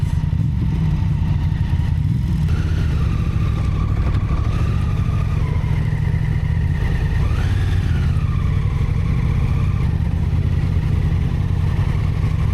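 Honda Africa Twin motorcycle exhaust drones steadily and loudly in freezing weather, a continuous low engine hum with wind noise and a brief rising rev partway through, no talking.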